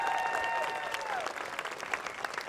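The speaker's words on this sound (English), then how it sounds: "I think they need a great round of applause." Live-stream audience breaks into steady applause for a couple welcomed to the community, continuous clapping filling the room with a few louder claps standing out near the end.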